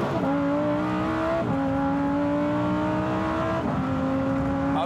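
Lamborghini Huracán STO engine with its 7-speed dual-clutch gearbox in Trofeo mode, loud and steady as revs climb, then two sharp upshifts, each a brief drop and restart in the rising engine note.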